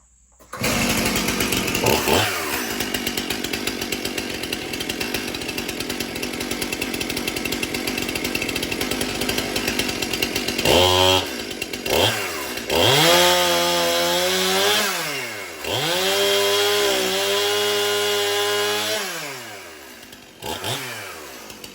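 A Stihl Farm Boss MS-291 chainsaw, running roughly and low on gas, idles loudly, then revs up and down repeatedly as it cuts through wood, the engine pitch rising and falling with each pass, with no talking.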